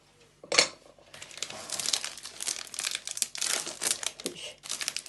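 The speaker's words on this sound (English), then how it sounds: "in the saucepan, we're going to put the chocolate, and we're going to break it up" Chocolate gets snapped and broken into pieces inside a saucepan: one sharp crack near the start, then crinkly wrapper rustling and small clattering knocks against the pan, close and fairly quiet.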